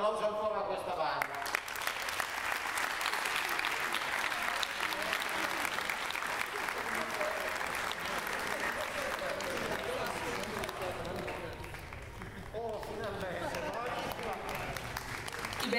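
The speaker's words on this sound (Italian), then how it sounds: "Un applauso ancora a questa banda." Sustained, dense applause from a concert audience for the Portacomaro town band at the San Bartolomeo concert, steady and loud for the whole stretch with crowd noise mixed in.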